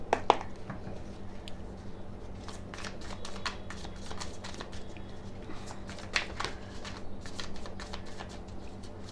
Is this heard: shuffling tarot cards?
yes